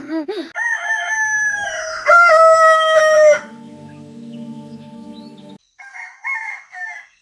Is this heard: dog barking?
no